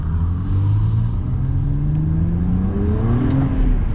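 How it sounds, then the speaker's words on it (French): A BMW Z4 35is exhaust rumbles as the car accelerates, engine note climbing steadily through the revs, loud and close under continuous road and wind noise. "Je sais pas si vous allez entendre le son de l'échappement à la GoPro"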